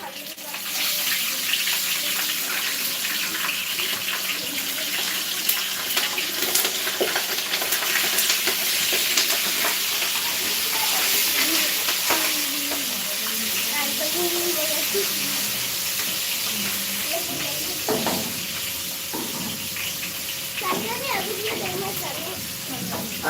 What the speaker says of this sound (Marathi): मिरच्या आहेत मिरच्या तळत आहेत ते